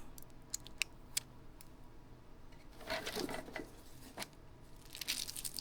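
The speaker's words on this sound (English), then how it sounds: "So we're gonna peel that plastic off." Protective plastic film being peeled off a new Yaesu FT-4XR handheld radio, faint crinkling and tearing with a few small ticks and a louder rustle near the end.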